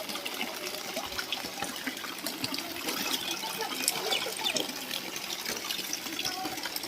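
Floodwater flows through a Gujarat village after heavy rain, a steady rushing and trickling gush that runs continuously at moderate distance, with people talking intermittently over it.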